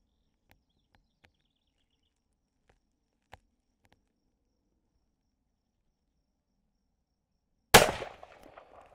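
A single loud rifle shot from a falling block single-shot rifle with a slightly warm barrel, fired at a shooting range, cracks sharply near the end after a long quiet stretch with a few faint clicks, then its report decays.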